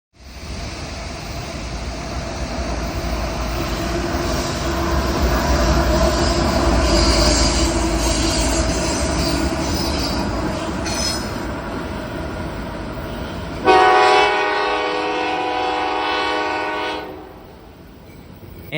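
A CSX freight train rolls past at a railside spot in Northeast Ohio, a long, loud, steady rumble of railcars with wheel squeal, joined near the end by a blaring horn before the sound falls away.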